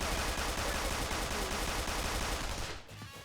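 Rapid automatic gunfire rattles in a loud, continuous burst in the video game Persona 5 Royal, then cuts off sharply near the end, leaving a quieter tail.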